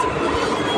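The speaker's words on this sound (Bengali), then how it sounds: "শিয়ালদার ট্রেন চলে এসছে" A Sealdah-bound train pulls into a station, heard as a brief, steady, loud rumbling roar of rolling rail cars.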